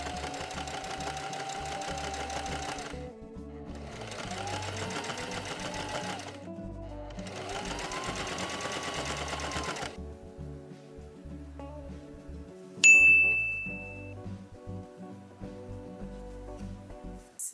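Sewing machine stitching fabric in three steady motor bursts of about two seconds each with short pauses between, followed by quieter handling sounds and a brief sharp click.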